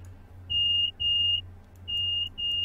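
A guard's buzzer sounds in the cab of a Class 375 electric train in Train Simulator 2016: two pairs of short, shrill electronic buzzes over a constant low cab hum.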